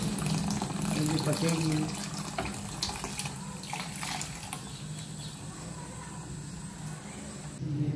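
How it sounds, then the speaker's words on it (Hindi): Water poured into a pot of thickened curry, a steady close splashing and running-water wash that tapers slightly, with a brief spoken phrase over it. "पानी और ऐड करेंगे हम इसमें, क्योंकि गाढ़ी हो गई काफ़ी हमारी"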